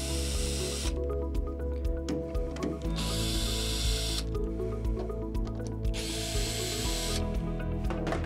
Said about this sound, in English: We're gonna grab our drill and we're going to take our 5/16 bit here and then we're gonna loosen the hose clamps.